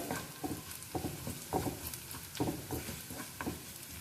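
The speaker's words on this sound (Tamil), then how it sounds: "இஞ்சி வந்து இந்த மாதிரி ஸ்ட்ரைப்பாக கட் பண்ணி வச்சுருக்கேன். அதையும் ஆட் பண்ணிக்கிறேன். இது நல்லா ஃப்ரை பண்ணிக்கலாம்." Ginger strips frying in a pan for honey chicken, a faint sizzle under soft, regular stirring scrapes and light taps, heard alone without voices.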